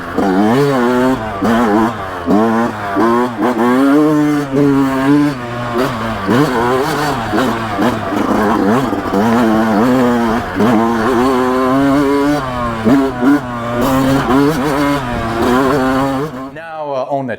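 A Yamaha YZ125X two-stroke dirt bike engine revs hard and continuously, its high-pitched scream rising and falling through repeated throttle blips, loud and close, before cutting off abruptly at the end.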